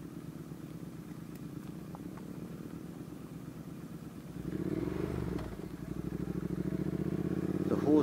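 Triumph and BMW motorcycle engines rev and swell as they pass close by on a country road, the roar rising and dipping over a continuous rumble.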